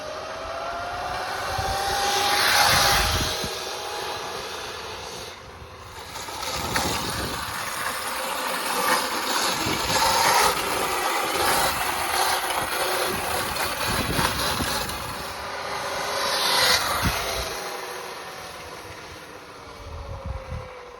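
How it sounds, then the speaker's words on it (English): A steady mechanical whine from a Sur-Ron electric dirt bike's chain drive, droning continuously with rising and falling surges as it passes, with no voices. "This is a test how loud the chain drive is."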